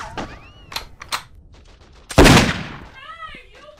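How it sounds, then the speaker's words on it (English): Gunfire sound effect in a wartime infantry audio drama: a few sharp shots early, then one loud, heavy burst of fire that fades out, with voices speaking around it. "Now grab your gun and fire at the enemy."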